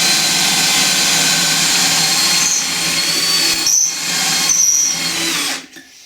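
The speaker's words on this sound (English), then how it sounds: "And that's one drill." A loud, steady power drill whines continuously for several seconds boring a pocket hole in wood, briefly easing off twice, then cuts out abruptly near the end.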